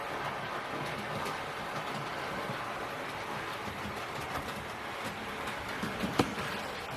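A Bachmann/Rapido model GWR Small Prairie locomotive running on model track: a steady, fairly quiet mechanical hum and whirr with faint rail clicks, continuous throughout with no talk.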